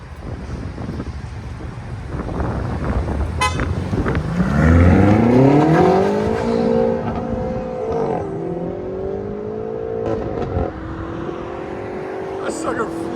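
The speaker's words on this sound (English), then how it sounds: "BMW M5 with a Res delete." A BMW M5 with a resonator delete and valved, near straight-pipe exhaust revs hard, its tone climbing and then holding a loud, raspy drone with a few shifts in pitch. Outdoor wind noise runs underneath.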